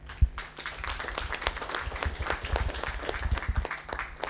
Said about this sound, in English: I'd like to just give all of our speakers, panelists, a big round of applause.